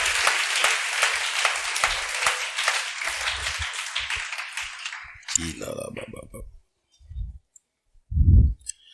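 A church congregation claps together in a dense, rhythmic burst for about five seconds before the clapping stops abruptly, followed by a few isolated low sounds and a short spoken phrase.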